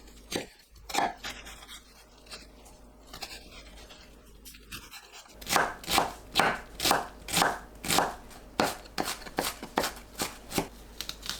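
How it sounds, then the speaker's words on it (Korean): A knife chops an onion finely on a cutting board, sharp regular knocks that start sparse and quickly turn into a steady, close, rhythmic run of chops, with no voices. "양파를 작게 썰어주세요."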